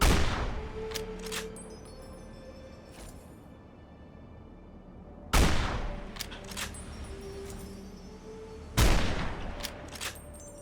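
Sniper rifle gunfire in the video game Fallout New Vegas: a few sharp, loud single shots spaced several seconds apart, each cracking abruptly and echoing before fading into a quiet background.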